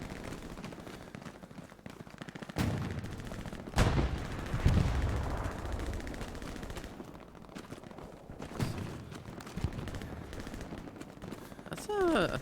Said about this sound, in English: I think that's the American MG. Yep. It's too high pitched.